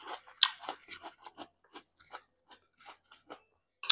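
Crunchy pickled onion being chewed close to the mic, a series of sharp, crisp bites and crunches in an irregular rhythm, quiet between chews, with no talking.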